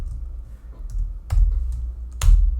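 A few scattered keystrokes on a computer keyboard, close and fairly soft, with sharper clicks near the middle and end over a low steady hum.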